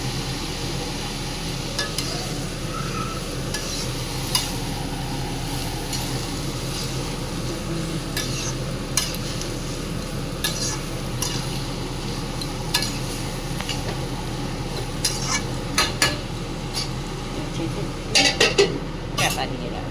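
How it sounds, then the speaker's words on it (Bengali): Ash gourd cooking with a hilsa fish head is stirred in a pan. A steady low sizzle runs throughout, broken by scattered scrapes and light clinks of the utensil against the pan. "দিয়ে এগুলো সব নেড়ে চেড়ে"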